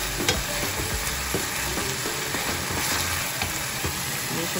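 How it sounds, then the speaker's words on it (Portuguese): Chopped onion sautés in a pan with a constant, dense sizzle and occasional light clicks of stirring, loud and close throughout. "E agora adicionamos a cebola. Vamos afogar essa cebola, que fica um pouco assim douradinha."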